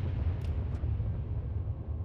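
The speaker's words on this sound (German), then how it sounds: "Ein Munitionsdepot explodiert oder was?" A deep, rolling ammunition depot explosion in World of Warships fills the clip, heavy and sustained in the low end, with no voices present.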